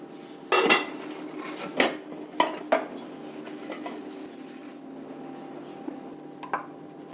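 Rava idlis being lifted out of a steamer, with sharp metal clatters and clinks of plates and utensils, several distinct knocks early on, then quieter handling, close by with no talk.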